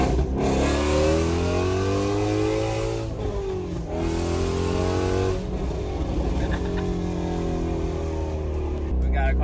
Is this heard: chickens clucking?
no